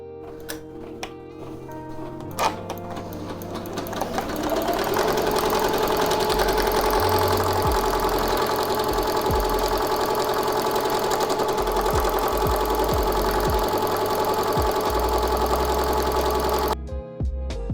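An embroidery machine stitching a bucket hat gives a steady mechanical whirring with rapid rhythmic clatter, running continuously for most of the clip, loud and close, with no voices.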